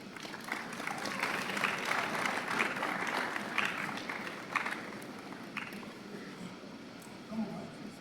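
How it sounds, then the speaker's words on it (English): A university class of undergraduates claps together, a fairly faint, dense patter of applause that swells and then fades over several seconds, with light murmuring from the room. "Clap for you, please."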